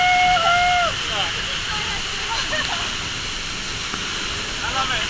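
Roar of the Pulhapanzak waterfall in Honduras, a loud, continuous broadband rush heard close, with faint whistle-like tones briefly over it early on.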